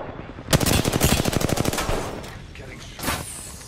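Rapid automatic gunfire in Apex Legends rattles in a fast, evenly spaced burst of sharp cracks, loud and close, trailing off and followed by another lone shot and some faint background voices.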